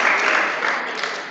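Brief burst of audience clapping at a Krishna Fest talk, a dense wash of claps that fades slightly over a second and a half.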